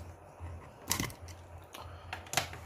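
Tape seal being cut on a Zync Buzz speaker box, heard as a few sharp crackling rips and scrapes, with two stronger bursts among quieter rustling, close and fairly faint with no talking.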